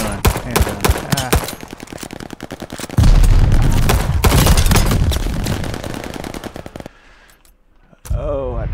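Automatic gunfire from a handgun in the PC shooter Call of Duty Vanguard, Arms Race mode, a loud dense volley of shots at the start, then a continuous heavy rumble, a brief quiet gap, and renewed noise.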